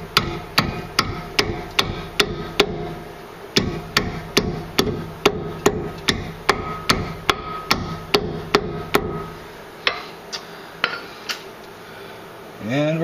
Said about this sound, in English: should be able to just take a hammer